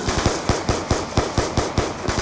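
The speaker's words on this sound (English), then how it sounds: "I would keep shooting him" Rapid automatic gunfire from a zombies video game, a close, loud burst of about a dozen evenly spaced shots in quick succession.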